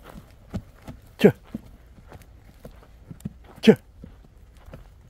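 A grey pregnant mare is walked along, her hooves giving a few irregular, spaced clops nearby, with two louder thuds standing out, while a man repeatedly calls short urging words to her.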